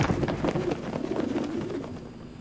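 Pigeons coo in the video game Prey near a helicopter, low soft warbling calls repeating steadily under a dense, steady game ambience.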